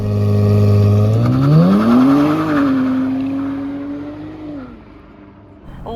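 A Nissan Z launches under launch control, the engine droning loud and low before climbing steeply in pitch as the car accelerates away, then holding and fading as it pulls into the distance.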